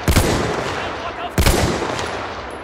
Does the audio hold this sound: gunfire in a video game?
yes